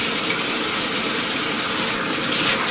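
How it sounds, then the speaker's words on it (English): Tap water gushes steadily and loudly into a tub during a dog's bath, a continuous broadband rush with no pauses and no voices. "Got to turn the water back on."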